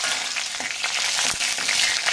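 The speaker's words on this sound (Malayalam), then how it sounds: "കടുക് പൊട്ടി കഴിയുമ്പോഴത്തേക്ക് നമ്മൾ മുളക് ഇടുന്നു" Dried red chilies fry in hot coconut oil with popped mustard seeds for rasam, a constant close hiss of sizzling with small crackles and pops, no voices.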